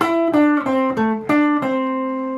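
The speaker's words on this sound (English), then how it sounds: "This is a lick without the second technique." A short guitar lick of five quick picked notes with slight bends, ending on a ringing note that fades out.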